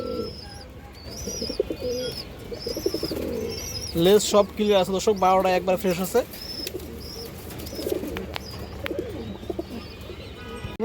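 Pigeons coo repeatedly at close range, with a burst of louder, rhythmic cooing in the middle, while someone talks over them and small birds chirp faintly.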